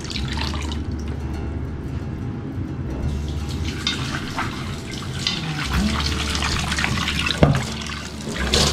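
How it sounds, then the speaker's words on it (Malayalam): Water splashes and trickles steadily over a new clay pot being rinsed, a close, continuous wet pouring sound with a few sharper knocks. "ഇനി നമുക്കിതിനെ നന്നായിട്ട് നല്ല വെള്ളത്തിൽ കഴുകിയെടുക്കണം"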